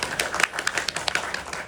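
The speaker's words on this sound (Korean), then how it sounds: "큰 박수 부탁드릴게요" Audience applause at a Korean film screening with cast and director Q&A, a brisk patter of clapping hands spread through the room, moderately loud and continuous with no talk over it.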